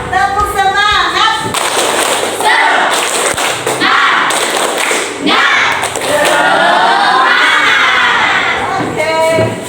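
A class of children shout and cheer together over patterned thumping claps in a classroom, loud and close, with excited voices throughout.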